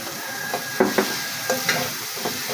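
Mashed radish with shrimp sizzles steadily in a hot pan while being stirred, with several distinct scraping clacks of the spoon against the pan, close and clear.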